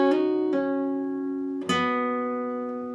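A slow phrase from a guitar solo: three picked notes, with two close together near the start and a third after a pause, each ringing out clearly with no voices.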